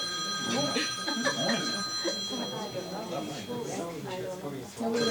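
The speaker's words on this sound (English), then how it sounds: "Go ahead, answer your phone." Telephone ringing with steady high bell tones throughout, partly masked by several people talking over it at a meeting in a pharmacy.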